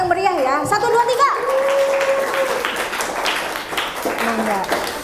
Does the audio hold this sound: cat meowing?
no